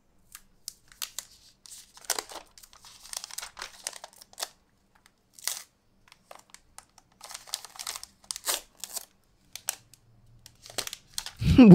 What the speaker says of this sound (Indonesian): Soalnya casingnya agak ngedoff dan bermotif kulit jeruk, jadi nggak bunyi kayak bunyi-bunyi plastik nempel ke plastik gitu